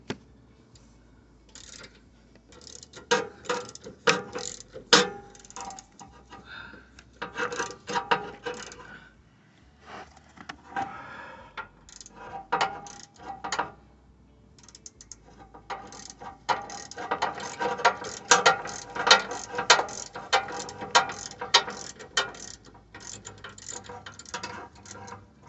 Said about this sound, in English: we're just gonna get all these bolts so that way we can remove the whole strut